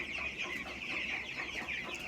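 Chickens on a poultry farm cluck in a faint, continuous chorus of overlapping calls heard from a distance.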